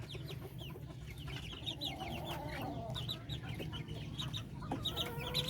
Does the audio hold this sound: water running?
no